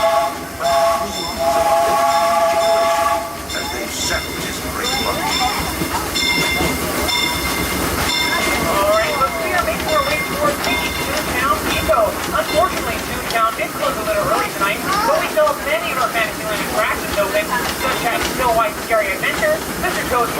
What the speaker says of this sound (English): as we approach the station here, please remain fully seated until the train comes to a full and complete